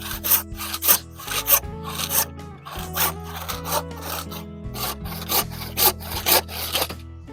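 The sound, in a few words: hand sawing wooden pieces for a bunk bed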